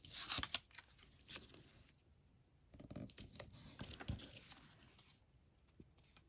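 A paper cutter trims the edge off a card, giving a run of crisp slicing and scraping strokes with light handling clatter, up close and with no talking.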